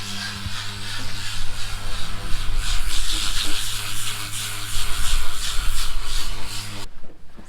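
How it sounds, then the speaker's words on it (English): Power sanders grind and rasp continuously on boat fairing filler at a moderate distance, with a steady low motor hum beneath the scratchy, fluctuating sanding noise. "you can probably hear the sanders going down there"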